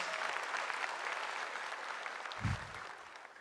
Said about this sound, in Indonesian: tepuk tangan dulu buat dia dong